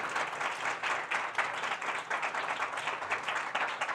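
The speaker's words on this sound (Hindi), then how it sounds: "आइए भाकरों के लिए जोरदार तालियां बजाएं खुदावंद यीशु मसीह के लिए" A congregation at a church sermon clapping together in a steady, dense patter of many hands, moderately faint and continuing evenly for about four seconds.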